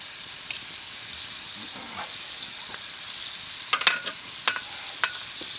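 Salmon frying in a pan at a rustic log cabin hunting camp, a steady hiss of sizzling fat with several sharp pops and spatters toward the end, close and loud.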